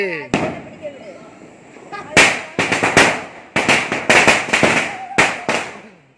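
Diwali firecrackers burst in a rapid string of sharp, loud bangs, some in quick clusters, with voices talking and calling out between the blasts.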